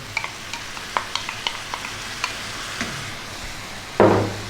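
Canned tomatoes dropped into a hot pan for a chicken tomato pasta, setting off a sudden loud burst of sizzling after a run of light scattered stirring clicks and ticks over a steady frying hiss.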